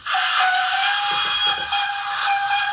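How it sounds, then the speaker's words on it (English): A model City of Truro steam locomotive fitted with a sound decoder sounds its steam whistle, a steady high tone lasting nearly three seconds, with faint voices briefly underneath. "Give us a little whistle."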